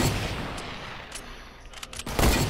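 Gunfire in the video game Fortnite, rapid bursts of shots over a constant din, with louder cracks near the end.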